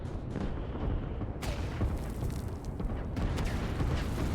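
Artillery fire in the Line War strategy game during a tournament match, a dense rumbling barrage with two sharper bursts, loud and continuous with no talk over it.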